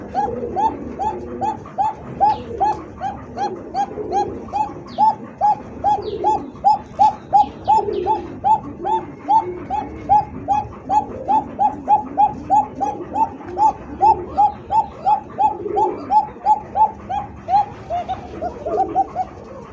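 Kokka pigeons kept for sale coo steadily in a repeating rhythm, close and fairly loud, with a dog barking now and then and other birds chirping faintly behind.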